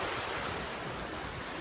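Surf rolls continuously onto the Azov Sea shore at a campsite, a steady broadband wash of waves mixed with wind buffeting the microphone.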